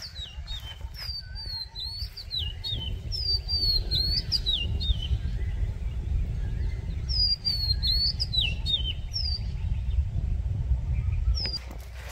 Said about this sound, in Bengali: দুয়েল পাখিতে ডাকতেছে দেখেন